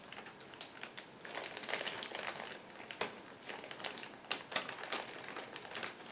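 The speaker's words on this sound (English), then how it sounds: "Next we have separate plastic bag with track parts." Someone opens a plastic bag of parts from a 1/35 Tiger Model IDF Nagmachon kit, producing close, continuous crinkling with sharp crackling bursts throughout and no speech.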